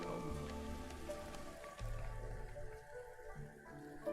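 Steady drizzle patters across the ground in the Against the Storm settlement game, a soft continuous hiss of light rain mixed with quiet game music and ambient tones, with no voices over it.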